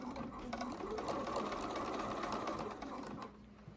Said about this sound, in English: we're going to take it over and sew it on the machine